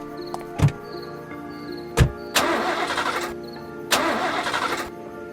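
A car engine fails to start in a dense forest: two short cranking thumps, then two longer grinding crank attempts that sputter without catching, close and loud with no speech.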